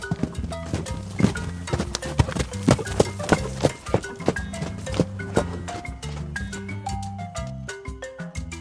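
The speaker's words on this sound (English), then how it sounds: "Horse." A horse's hooves clip-clop in a quick, steady rhythm of sharp knocks over tuneful background music, slowing toward the end, with no speech.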